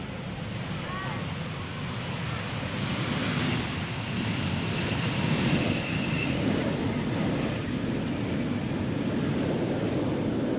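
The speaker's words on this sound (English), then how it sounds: "This is KLM Flight 912, German Airways, returning from Aberdeen." A KLM airliner returning from Aberdeen arrives at Schiphol's Polderbaan runway, heard as a steady, distant broadband jet roar mixed with wind buffeting the microphone.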